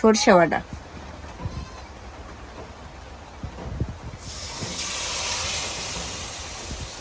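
Browned onions and spices are lightly sautéed with mustard paste in a pan, a wash of hissing sizzle that swells and holds steady in the latter half. A brief voice-like cry and some clatter come before it.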